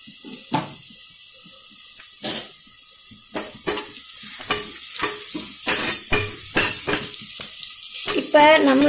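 Ingredients sautéing in ghee in a pan, a steady close sizzle broken by repeated spoon scrapes and knocks against the pan, with occasional faint talking.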